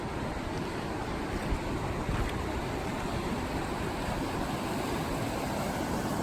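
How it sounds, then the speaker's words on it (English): Waterfall beside a mountain lake camp, a dense steady rush of falling water like white noise, constant and fairly close with no other sounds. "We even got our own beach and waterfall."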